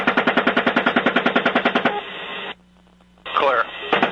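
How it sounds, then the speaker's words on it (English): An Apache helicopter gunship fires its machine guns in long, rapid, evenly spaced bursts, loud and harsh through a radio-like channel. The fire breaks off for a brief quiet gap, then resumes with a garbled radio voice. "The Apache and a second gunship open up with machine guns"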